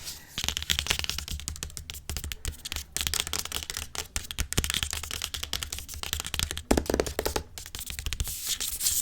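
Fingertips tap fast and scratch across a true-crime book, dense irregular clicks and rustles close up with no talking.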